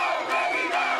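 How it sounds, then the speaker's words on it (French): A large crowd of supporters of Ousmane Sonko in Thiès, Senegal, chants in unison, a brief, dense and loud roar of many voices. "la foule scande un seul nom."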